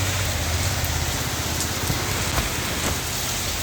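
Steady, loud hailstorm downpour, a dense wash of rain and hail pattering hard on surfaces throughout, with a few sharper impacts standing out and no voices.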